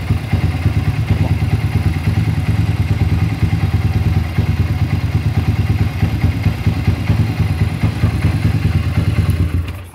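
A motorcycle engine with a worn timing chain idles loudly and steadily, with a fast mechanical clatter running through its beat; no one speaks.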